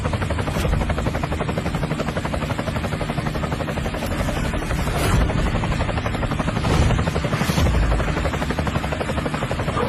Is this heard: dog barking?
no